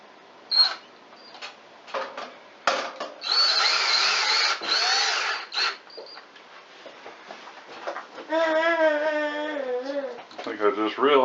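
Power drill driving screws into a 2x4 board while building a kids' swing, with a sustained whirring burst of a couple of seconds among shorter drill pulses, close by, followed by speech.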